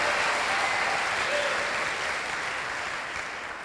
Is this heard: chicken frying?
no